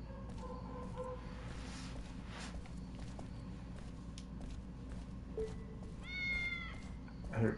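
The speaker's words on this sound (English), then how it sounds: "I hear cats." Cats meow in Shenmue III, a few faint meows set against low ambient game background, with no talking.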